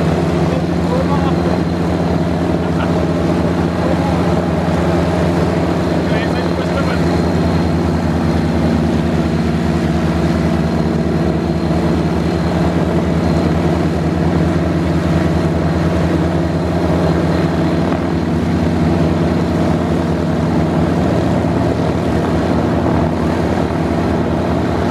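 Avro Shackleton piston engines starting and running, a loud, steady multi-engine drone with strong low harmonics and a rough propeller throb, held at a constant level for the whole stretch.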